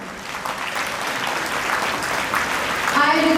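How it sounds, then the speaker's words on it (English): Audience applause at a farewell ceremony, a steady crowd of hands clapping that swells slightly toward the end, where a voice begins to come through on a microphone. "Let's put our hands together to applaud them."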